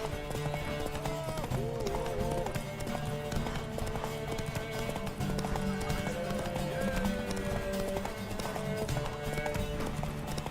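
Steady, rhythmic clip-clop of galloping horse hooves in The Witcher 3 runs throughout, layered with music and busy game sound effects.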